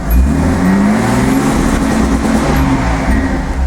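Car engine held against an aftermarket rev limiter, a loud, close, sustained high-rpm drone with rapid stuttering pulses as the limiter cuts in, steady for the whole stretch without pause.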